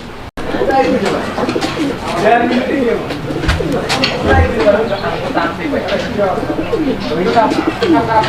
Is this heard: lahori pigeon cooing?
yes